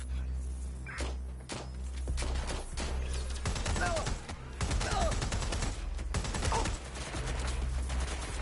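Bursts of gunfire in the video game Watch Dogs: Legion, loud and close, with repeated volleys and thuds throughout and voices talking in between.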